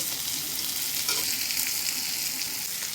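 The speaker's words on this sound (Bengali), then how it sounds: "পেঁয়াজটা দিয়ে একটু লাল লাল করে ভেজে নেব" Onions sizzle and crackle in hot oil left over from frying fish, a close, loud and continuous frying hiss with a few stirring sounds and no talking.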